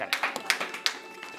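Audience applause welcoming a poet onstage at a Republic Day kavi sammelan, a short burst of scattered, fairly close hand claps with an uneven rhythm.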